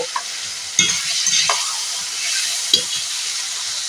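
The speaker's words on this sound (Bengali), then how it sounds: "জল দিয়ে ভালো করে মশলাটা আমি নাড়াচাড়া করে নেব" Masala stirred with a little water in a pan, a steady sizzling hiss broken by a few sharp scrapes and knocks of the spoon, close and fairly loud, with no talking.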